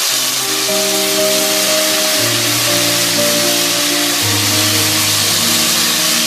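Water poured into a hot pot of whole garam masala spices for chicken pulao sets off a loud, steady sizzling hiss that fills the clip, with low hums shifting underneath.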